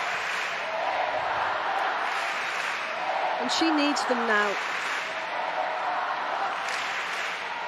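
A tennis crowd applauding during a women's match, a broad wash of clapping from a large audience that runs throughout while a commentator speaks over it.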